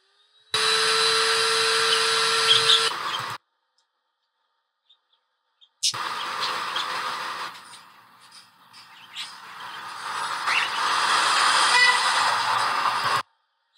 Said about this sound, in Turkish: evin birkaç apartman ötesinde bir inşaat var. İnanılmaz sesler geliyor.